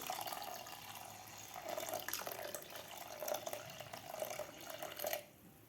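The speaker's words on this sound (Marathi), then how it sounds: "आता यामध्ये घालायचं आपल्याला गरम पाणी" Hot water pours steadily into a pressure cooker holding ground soaked wheat, a soft continuous splashing fill with faint gurgles that stops abruptly near the end.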